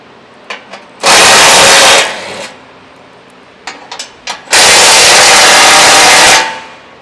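A pneumatic impact gun strains against the sump plug of an N80 Toyota Hilux. Two loud, sustained bursts of rattling hammering, about a second and two seconds long, are separated by a few faint clicks and clunks.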